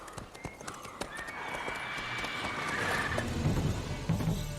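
Roach the horse in The Witcher III gallops with quick clip-clopping hoofbeats and lets out a drawn-out neigh, the whinny rising clearly over the hooves partway through.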